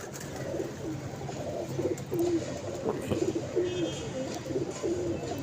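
Pigeons, including a white-tailed chapra, coo repeatedly at a pigeon club, soft rolling calls overlapping at a steady moderate level over low background noise.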